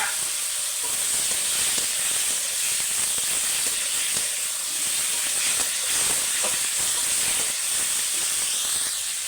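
Potatoes and kohlrabi frying in hot spiced oil give off a constant loud sizzling hiss, close up and unbroken throughout, with no talking over it.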